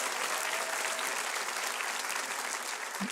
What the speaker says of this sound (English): Yes, you should applaud.